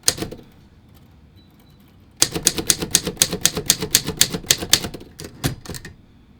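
Typing on a 1959 Torpedo 18B manual typewriter: after two seconds of quiet, a rapid run of sharp, close keystrikes clatters along, about twenty hard clacks, slowing and trailing off near the end.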